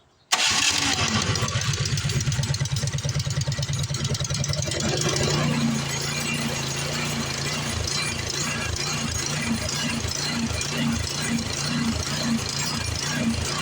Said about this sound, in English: Choke set full. Primer, get started.